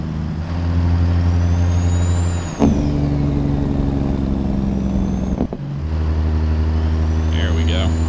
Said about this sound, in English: Give an excuse to use our Jake brake